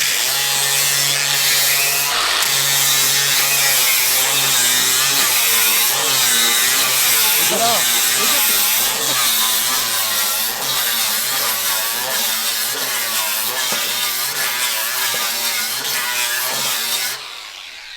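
A DeWALT DCG418 angle grinder runs continuously at close range with a loud, steady high-pitched whine and a grinding rasp, then winds down at the very end.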